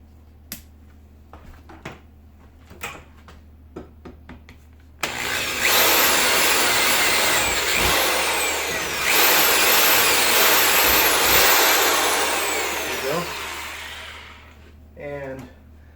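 A few sharp clicks and taps, then a power drill with an 11/64-inch bit whines loudly for about eight seconds with a slight dip midway, close by.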